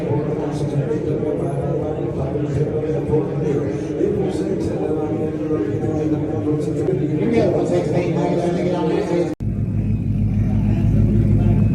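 A Ford Mustang engine idles with a steady low rumble, then cuts abruptly to a deeper, louder drone near the end.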